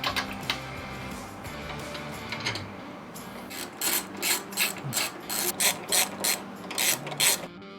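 Bolts on a motorcycle license plate relocation kit being tightened with a ratchet, a run of rhythmic clicking pawl strokes in short bursts, close up with no talking.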